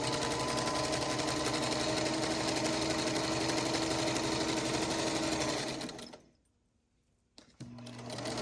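A sewing machine stitches half square triangles for a quilt block in a fast, steady, whirring chatter close by, then stops abruptly and restarts briefly at the end.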